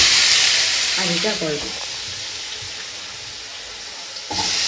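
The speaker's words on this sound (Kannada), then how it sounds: "ಇವಾಗ ಡೈರೆಕ್ಟ್ ಇದನ್ನು ನಾವು ಸ್ವಲ್ಪ ಫ್ರೈ ಮಾಡ್ಕೊಳ್ಬೇಕು" Spiced egg with chilli powder and turmeric frying in a pan, a steady close hiss and sizzle that runs through a brief spoken remark and swells again at the end.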